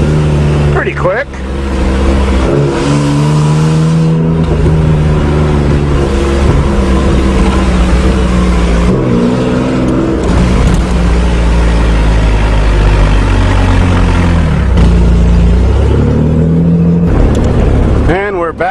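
A 1986 Nissan 4x4 truck engine starts and revs loudly and up close, rising and falling in pitch over a steady running idle.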